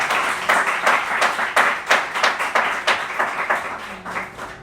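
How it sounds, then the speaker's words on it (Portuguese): A church congregation at Igreja de Nova Vida do Catete claps in unison, producing a rhythmic series of sharp, evenly spaced group claps for several seconds with little talking. "Aplauda o Senhor com o seu melhor."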